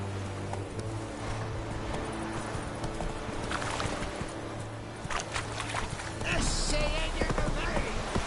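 Roach, a horse in The Witcher 3, moving with a steady clip-clop of hooves under game ambience, then a louder swell near the end.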